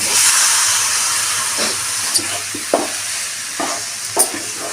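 Goat tripe curry is stirred in a pan over a steady hissing sizzle, with a few distinct utensil scrapes and knocks spaced about a second apart.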